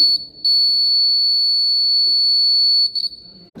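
A homemade heat-sensor fire alarm built as a civil engineering design studio project: a loud, steady high-pitched electronic tone running almost continuously, with brief pulses at the start and end, close and alone.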